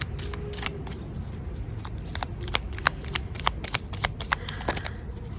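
A deck of tarot cards being shuffled close up, with a rapid series of crisp riffling snaps and slaps that grow sharper toward the end over a low room rumble.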